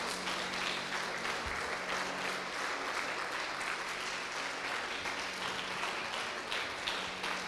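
A church congregation claps steadily in praise of the Lord, a dense even wash of applause at moderate distance with no speech.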